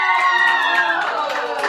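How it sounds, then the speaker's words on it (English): Audience at a comedy roast breaks into dense applause with loud cheering and excited shouting voices, a sustained roar held steady throughout the short burst. "let's give a big round of applause"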